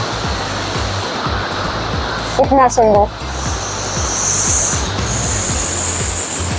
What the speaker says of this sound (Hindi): आगे यही झरना प्रवाहित हो रहा है।